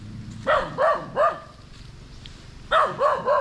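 A mother dog guarding her puppies barks in two bursts, three sharp barks, a pause, then three more, close and moderately loud with no talk over them.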